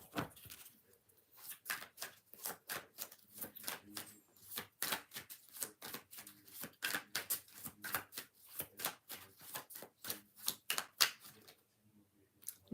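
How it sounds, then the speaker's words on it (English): Tarot cards being shuffled by hand in a long run of quick, crisp riffling bursts, close and fairly loud, with a brief pause near the start and no talking. "One more shuffle."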